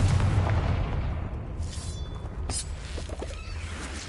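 A magical blast spell erupts in the Hogwarts Legacy video game, a loud booming burst with a rumbling low-end tail that fades under scattered game effects.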